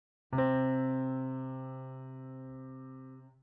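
Two steady tones begin together and blend into one smooth, pure interval, sustained for about three seconds before fading.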